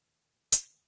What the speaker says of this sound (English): we're going to be layering it with this hi-hat.